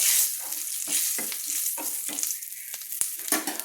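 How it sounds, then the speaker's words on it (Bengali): Whole cumin seeds tempering in hot oil for an aloo chingri dish, a bright crackling sizzle punctuated by repeated scraping thuds of a spatula stirring the pan, close and without speech. "আমি 1 চামচ গোটা জিরে দিয়ে দিলাম ফোড়নের জন্য, দিয়ে আমি ভালো করে নেড়ে নিলাম"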